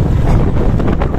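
Strong wind gusts blow along a town street, a loud, rough, continuous roar buffeting the microphone close up with no break, and no voices.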